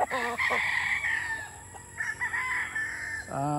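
A white kelso gamefowl rooster of street breed crows loudly and close by, its call rising and falling over about three seconds, with a few short clucks before it and another burst of crowing at the end.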